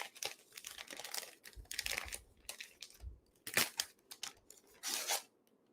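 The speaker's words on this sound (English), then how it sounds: "let's start unwrapping this" Paper crinkles, tears and rustles close up as a holiday gift is unwrapped, with irregular bursts of crackling and ripping separated by brief quiet moments and no speech.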